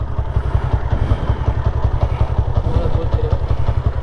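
Yamaha Sniper 150 version 2 motorcycle engine running steadily up close, a loud, continuous rapid low-pitched pulsing with some mechanical clatter throughout.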